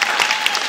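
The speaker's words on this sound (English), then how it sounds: "Clap if you ever heard of him." A comedy club audience claps briefly, a short dense burst of applause lasting under a second.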